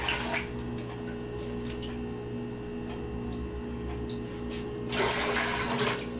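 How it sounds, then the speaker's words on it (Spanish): A liter and a half of water is poured into a pressure cooker pot in a kitchen while making flan napolitano, a steady hissing splash that runs throughout and swells louder near the end. "Vamos a vaciar el litro y medio de agua a la olla."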